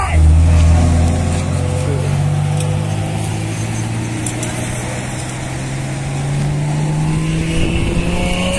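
A Volkswagen Golf GTI accelerates hard near a blue lake, its loud, close engine note rising steadily in pitch as it pulls through the revs, with faint voices in the background.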